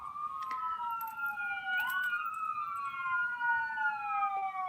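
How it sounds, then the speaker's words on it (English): A wailing siren sweeps up and down in pitch continuously, fairly prominent over a low background rumble, with no talking. "it's a siren in the background."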